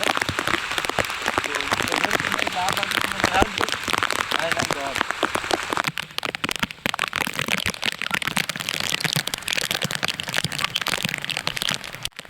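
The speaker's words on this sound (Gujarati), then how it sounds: "વરસાદ છે ને બંધ થવાનું નામ જ નથી થતું" Steady rain pours down at a campsite, pattering densely on a surface with sharp drips and splashes, constant and close throughout.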